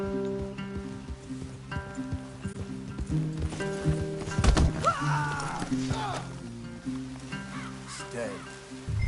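Horses in Red Dead Redemption 2 clip-clop and snort through the scene, with occasional bird calls, under a steady orchestral game score and bits of talk.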